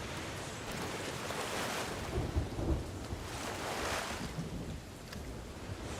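Stormy weather in the pirate game Sea of Thieves, with a dense roar of rain and surf and low thunder rumbling heavily in the middle, continuous and fairly loud throughout.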